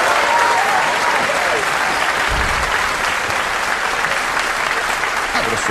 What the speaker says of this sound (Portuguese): Um aplauso ao Senhor da glória!